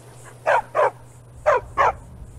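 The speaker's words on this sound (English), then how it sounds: "Oh, is that a dog? Yes, that's a dog." A stray dog in the video game Skyrim barks four times in two quick pairs, clear and fairly close over a low steady background hum.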